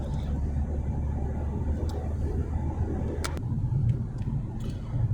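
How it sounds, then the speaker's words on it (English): Car driving along with a steady low engine rumble, the engine suffering an acceleration problem from needed maintenance; continuous, close, with a few faint clicks and no talk. "Would go faster, but my car's got an acceleration problem at the moment because it needs maintenance."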